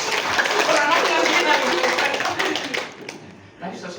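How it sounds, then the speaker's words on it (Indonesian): A church congregation at a Salvation Army retreat in Palolo claps together in a brief dense burst that fades after a few seconds, with voices mixed in. "Tepuk tangan dulu dong."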